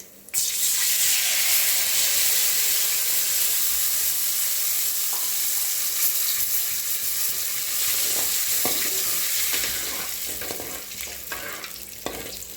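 Tamarind water bubbles and sizzles steadily in a pan, a continuous close-up simmering hiss with a few faint clinks.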